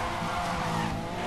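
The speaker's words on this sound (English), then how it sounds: "At least I've got my drifting now better." Car drifting with tire skid in Need For Speed Most Wanted during a police chase, a sustained squeal over a roaring engine, loud and close.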